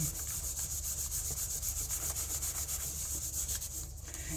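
A finger rubs soap into the edges of tarot cards, a soft, close, steady scratchy rubbing in quick repeated strokes, quiet and without any voices.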